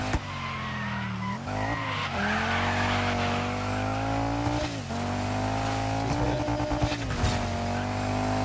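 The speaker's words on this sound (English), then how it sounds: "what a jump drift! A power slide, whatever we want to call that" A rally car in DIRT 5 lands a jump and power-slides, its engine droning loudly while tires skid and squeal across the surface for several seconds, with short bumps and rev changes along the way.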